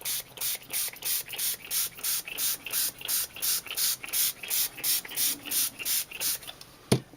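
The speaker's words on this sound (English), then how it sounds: "Then I'm going to spray again" Repeated bursts of aerosol spray onto cardstock, about fifteen short hissing puffs in a steady rhythm, close and fairly loud, ending with a sharp click.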